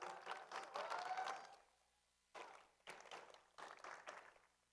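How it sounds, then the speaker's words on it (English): An audience at a district event in the SunDome applauds the donors, a faint, distant wash of clapping that fades out, then returns in several shorter bursts. "Can we give them a big hand of applause"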